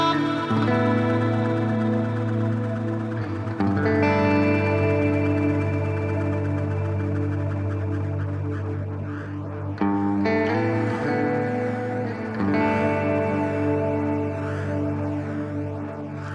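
Electric guitar run through the rotary speaker effect of a Boss GT-1000 processor, playing sustained, swirling chords with a pulsing, wavering texture; loud and steady throughout, with chord changes near the middle and no talking.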